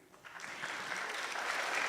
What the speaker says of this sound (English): please join me in applauding our panel members